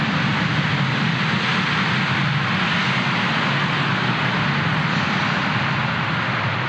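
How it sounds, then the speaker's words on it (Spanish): Aircraft engines at Mérida airport in Yucatán, a loud steady jet roar filling the clip without letup, close and constant with no talk heard over it. "Pasan los aviones porque estamos en el aeropuerto de Mérida"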